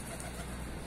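Pigeons cooing on a rooftop, a brief, steady soft murmur of coos against an even outdoor hiss.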